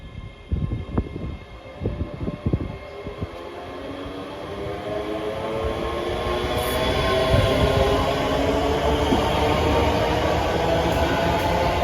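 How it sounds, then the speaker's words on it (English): A ScotRail passenger train departing Haymarket station in Edinburgh, beginning with clattering knocks of wheels over rail joints and building into a loud, steady rolling rumble with whining motor tones as it picks up speed. "Departing out now is the 1539 ScotRail service from Edinburgh Waverley to Dunblane."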